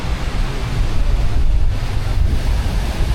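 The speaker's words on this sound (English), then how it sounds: "we are having 35 km/h gusts today, so forgive me if there's a little bit of wind noise" Wind gusting at about 35 km/h buffets the microphone outdoors, a steady loud low rumble with no pauses.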